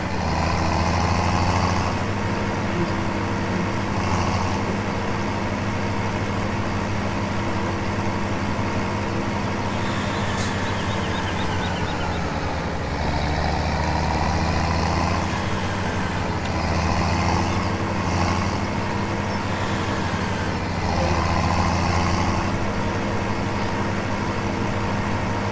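A truck engine running steadily on a farm, a low, continuous diesel rumble close by with slight shifts in load throughout.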